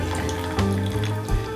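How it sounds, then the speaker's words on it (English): Water pours into a bowl of lemon juice, golden caster sugar and elderflowers for a drizzle-cake syrup, a short steady splashing trickle heard close up and alone. "I'm just going to add a little bit of water."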